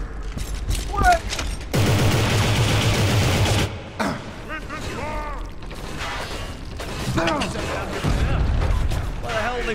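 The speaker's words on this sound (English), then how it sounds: "Why the hell are they firing at us?" Gunfire from the video game Inversion: a dense burst of rapid shots that lasts a couple of seconds, mixed with mechanical clanks and creaks, under loud, strained voices that shout throughout.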